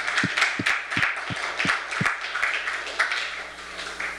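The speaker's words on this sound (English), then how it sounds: "So let's have a round of applause for them." Applause from a lecture audience: a steady, dense patter of many hands clapping with a few heavier claps standing out, at moderate level throughout.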